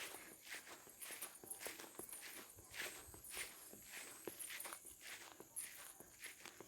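Footsteps walking outdoors, a steady series of soft, regular steps, faint and distant against a hissy background.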